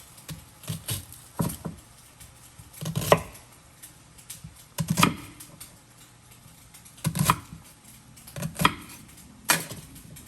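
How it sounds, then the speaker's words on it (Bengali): A knife chopping onions into cubes on a board while cooking chicken tikka biryani at home, with quick bursts of rapid close taps separated by short pauses, repeated several times, with no talking. "পেঁয়াজগুলা কিউব করে কাটে নিলাম"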